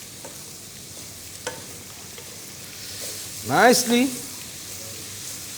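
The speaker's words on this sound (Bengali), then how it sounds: "তো আমরা খুব সুন্দর করে আমাদের স্পাইসেসকে কষাবো," Spices fry and get stirred in a pan over high heat, a constant soft sizzle running beneath, while a voice speaks briefly near the end.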